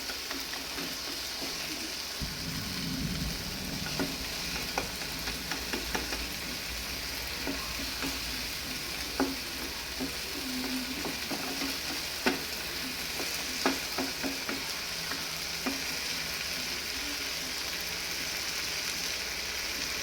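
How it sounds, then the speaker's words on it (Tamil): Tomatoes sauté with salt in a pan for tomato rice, a soft continuous sizzle with scattered scraping strokes and light ticks from a spatula, steady and fairly quiet throughout. "சால்ட்டு கொஞ்சம் போட்டு வதக்குனீங்கன்னா தக்காளி வந்து சீக்கிரமாக வதங்கிடும்"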